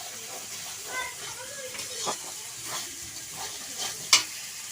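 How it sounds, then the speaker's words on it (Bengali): Poultry meat cooks in a pan at night, giving an even, moderately loud sizzle and hiss with a few soft stirring scrapes and one sharp utensil clink near the end. "আমার মা এখন মাংস রান্না করছে এই দেখো"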